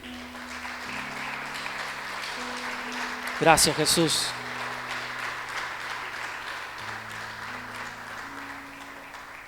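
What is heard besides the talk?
congregation applause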